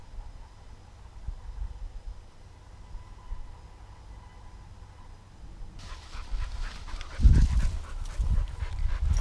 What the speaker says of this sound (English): We just ran a few dogs through here.